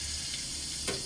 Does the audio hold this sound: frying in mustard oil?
yes